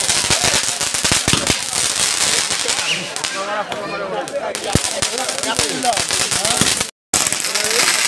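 Firecrackers at a Ras Puja fair burst in rapid, loud crackling volleys, dense and overlapping, with a brief lull mid-clip and a sharp gap near the end, alongside crowd voices.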